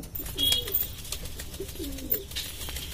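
Pigeons of an Indian breed coo in a few short, repeated phrases at close range, with light rustling and faint wing movement in between.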